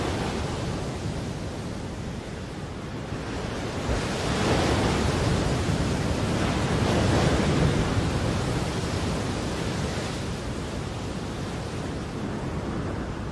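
Steady roar of tropical cyclone wind and pounding surf on Christmas Island, a broad, loud, continuous wash that swells in the middle.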